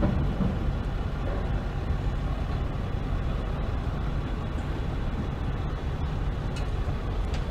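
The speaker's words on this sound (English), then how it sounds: "And this is the Cummins diesel." A Ram truck's Cummins 6.7 liter diesel engine idles steadily at an auto show, a constant low rumble with no pauses, fairly loud and close.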